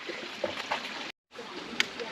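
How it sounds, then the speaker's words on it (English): Small waterfall in a desert side canyon, heard as a steady broadband rush with some splashy detail. It cuts out briefly midway, then carries on at moderate level with no talk over it. "There is a waterfall just right there."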